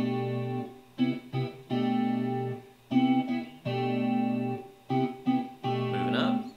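Strummed guitar chords ring out in a steady progression, each chord sustained then briefly cut before the next, clean and close with a warm tone.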